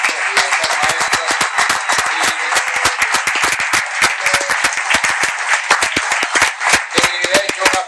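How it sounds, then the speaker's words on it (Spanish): A church congregation applauds teachers with loud, close, continuous clapping, many sharp individual hand claps overlapping into a steady rattle throughout. "Yo quisiera que expresemos nuestra gratitud con un fuerte aplauso a estos maestros."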